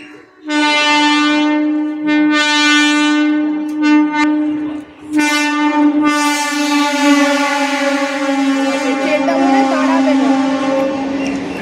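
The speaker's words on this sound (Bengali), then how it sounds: "দেখ শোনো আবার ট্রেন আসছে দেখ।" A passing train sounds its horn in loud, sustained blasts: two short ones, then a longer continuous tone with a rumble beneath it, close by and outdoors.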